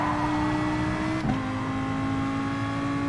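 Steady high engine whine from the player's race car in Gran Turismo Sport, with a quick swoosh as a Mercedes race car flies past, constant and close.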